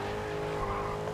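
Truck racing in GRID Legends: a continuous loud engine roar with tire squeal and skidding under hard braking, steady and close throughout.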